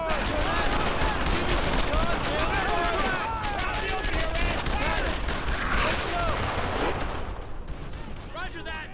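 Dense gunfire fills a German-occupied French village battle in Brothers In Arms: Earned in Blood, with rapid overlapping rifle and machine-gun bursts, loud and continuous, while soldiers shout over the din.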